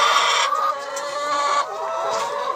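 A rooster at a feeder clucks and calls in short bursts, fairly close, with no talking.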